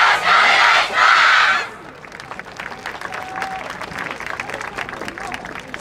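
Crowd at an outdoor dance festival performance in a park plaza breaks into loud cheering and shouting for the first couple of seconds, then drops to a quieter murmur of scattered voices and applause.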